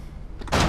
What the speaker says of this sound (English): Is that you who closed the door?